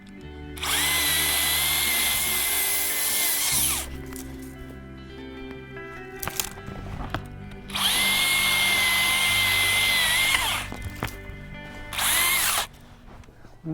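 A Husqvarna cordless saw cuts through tree limbs broken in a snowstorm, running loud in three high whining bursts with quieter pauses between them.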